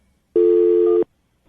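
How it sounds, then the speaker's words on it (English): A single loud steady telephone tone sounds for under a second, alone in a quiet room, as a phone call is being dialed. "I'm going to dial the phone number right now"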